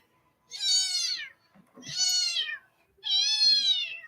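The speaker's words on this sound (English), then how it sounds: "Cat meows." A cat meows three times in a row, each call long and clear with short pauses between, close to the microphone and with no talking over it.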